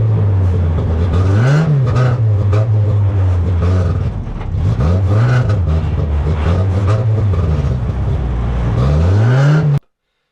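A 1300cc stockcar engine, misfiring and popping, roars and surges unevenly on track, revs rising and falling in rough bursts before cutting off suddenly.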